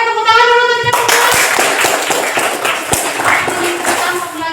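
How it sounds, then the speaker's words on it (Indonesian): A school class claps hands together in a classroom, a dense flurry of overlapping claps that starts abruptly after a moment of tonal voice and continues fairly loud to the end. "Oke, tepuk tangan dulu untuk kita semua."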